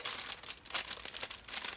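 Soft, steady crinkling of a thin plastic bag holding steelbook sleeves, close but quiet, with small rustling swells and no voices.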